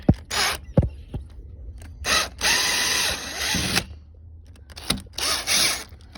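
Power driver tightening a screw on a Larson Platinum storm door at the top hinge, several loud close ratcheting bursts of a second or so separated by brief pauses, no talking.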